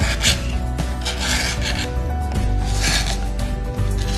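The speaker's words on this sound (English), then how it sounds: "Take the scraper and go down with the grain." A hand scraper drags along the grain of a wooden staircase during renovation, making rasping strokes in a repeated back-and-forth rhythm, close and loud, with no voices.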